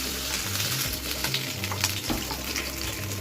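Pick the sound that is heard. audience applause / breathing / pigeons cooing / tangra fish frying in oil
tangra fish frying in oil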